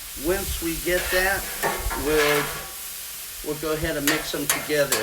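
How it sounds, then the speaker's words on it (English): Ham and onions sizzle on a Camp Chef flat top griddle over high heat, a steady frying hiss with occasional scraping stirs, running beneath a voice talking throughout. "try to get as much sizzle on it as we possibly can"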